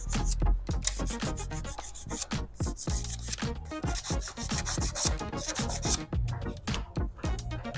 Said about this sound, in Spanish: a la armadura lo único que se le puede hacer es darle una pequeña lijada con una lija muy suavecita